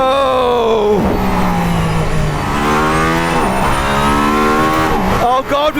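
Mercedes-AMG ONE hypercar accelerating hard on a straight, a loud high-pitched engine howl rising through the revs with quick drops at gear changes, close and continuous while someone talks over it.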